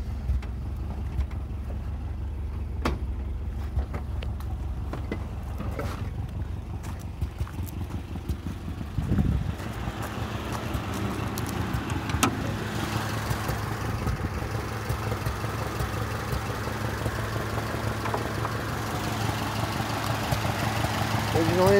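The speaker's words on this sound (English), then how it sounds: "It idles great." A 1982 Subaru Brat DL 4x4 with its original engine idles steadily in a low, even rumble that runs throughout, with a brief bump partway through and some handling noise around it.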